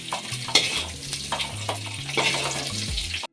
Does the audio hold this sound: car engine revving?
no